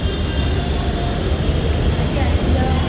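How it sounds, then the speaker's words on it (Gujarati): A metro train bound for Andheri rumbles into Gundavali station steadily, a loud low roar with a faint high whine above it, continuous throughout. "ઓલી બાજુ મેટ્રો આવી ગઈ છે, જે અંધેરી જાય છે"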